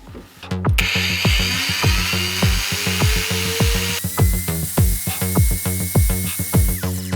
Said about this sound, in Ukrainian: болгарка має плавний пуск. Хочу відразу сказати, що вона набагато тихіше працює від звичайної е, щіткової